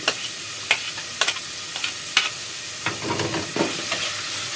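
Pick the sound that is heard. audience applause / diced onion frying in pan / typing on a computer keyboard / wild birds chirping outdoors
diced onion frying in pan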